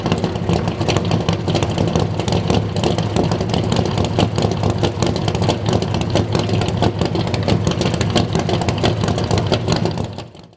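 A Chevy L88 427 V8 engine roars loudly and continuously with a rough, lumpy burble, revving hard throughout before cutting off abruptly at the end.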